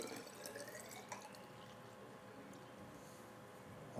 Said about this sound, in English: we pour the 100 mils into what we call D